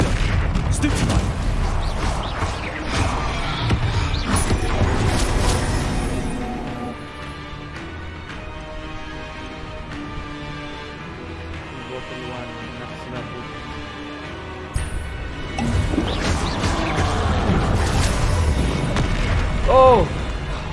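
Booming blasts from the Confringo fire spell in Hogwarts Legacy go off repeatedly amid game sounds and music, with a person talking over them.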